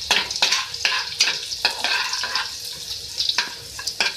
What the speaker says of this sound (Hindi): इसको भी थोड़ा फ्राई करेंगे